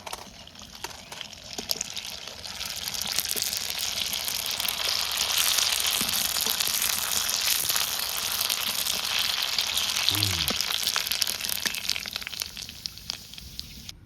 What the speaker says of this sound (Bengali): এবার কিন্তু তেল গরম হয়ে গেছে, এখন আমরা কিন্তু ফুচকাগুলো ভেজে নেবো